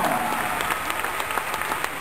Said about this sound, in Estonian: teeme veel kõigile esinejatele särtsaka aplausi